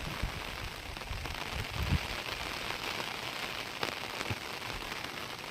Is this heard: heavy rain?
yes